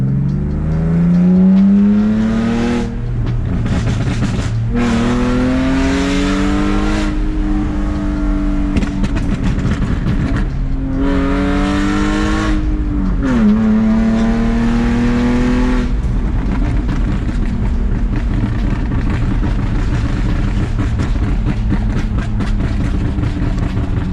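A BMW E46 with catless headers and SAP delete revs hard, its loud raw exhaust climbing and falling through several sweeping rev cycles, then settling into a steady rumbling idle, close and alone.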